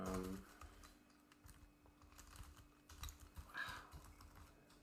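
Fast keystrokes clatter on a computer keyboard during coding work, a steady stream of close, crisp clicks in short bursts with brief pauses and no talk over them.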